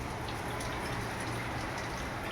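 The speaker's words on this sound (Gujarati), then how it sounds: "અચાનક વરસાદ એવો ચાલુ થઈ ગયો છે" Steady rain falling in Rajkot on the last day of the month, a dense continuous hiss at constant loudness throughout, with no talk over it.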